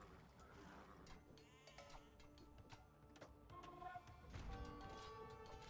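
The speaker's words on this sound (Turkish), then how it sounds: "Şu koyunları alalım." Sheep bleating in Age of Empires 2: Definitive Edition, several short game bleats over a busy mix of other game sound effects and chimes, fairly quiet overall.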